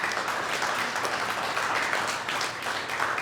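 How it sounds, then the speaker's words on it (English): A room of employees claps at a company quarterly meeting, a steady, moderately loud patter of many hands sustained across the few seconds without a break. "So give her a round of applause."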